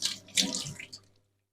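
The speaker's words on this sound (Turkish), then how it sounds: "Ellerimizi yıkayalım." Water runs from a kitchen tap while hands are washed, a close splashing rush that swells and fades before stopping abruptly.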